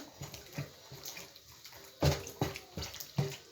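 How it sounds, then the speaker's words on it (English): Water sloshes and splashes in a few bursts as meat for kilishi is rinsed in a basin of hot water, the splashes growing louder toward the end, fairly close. "I'm washing it in hot water."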